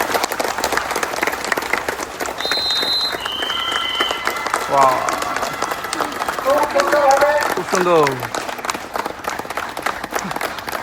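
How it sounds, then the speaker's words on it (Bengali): A crowd at an outdoor Independence Day civil defence mock drill claps in a steady, busy patter, moderately loud and continuous, with voices talking over it. "হাততালি জোরে হাততালি দাও।"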